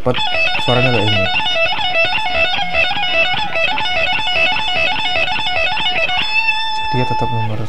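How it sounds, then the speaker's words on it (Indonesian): A guitar part played fast across the first and second strings for a song, rapid repeating picked notes in a looping pattern, fairly loud and close, ending on a few ringing notes. "kalau main cepat suaranya kayak ini."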